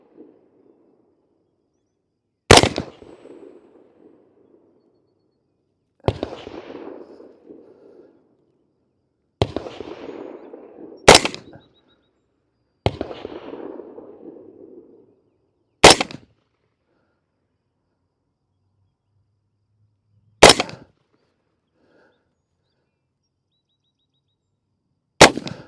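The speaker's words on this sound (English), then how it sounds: "Let's see if we can put a few shots, see what kind of accuracy we can get with this." Single rifle shots from 300 Blackout Black Hills 198 grain Dual Performance ammunition crack loudly outdoors at irregular intervals of several seconds. Most shots leave a short rolling echo.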